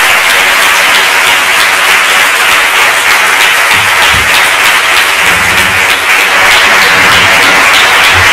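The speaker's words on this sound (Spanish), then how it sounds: "Un fortísimo aplauso para ellos." Loud, continuous applause from an audience at a primary school event in Cuenca, dense clapping filling the whole eight seconds at close range with no talk over it.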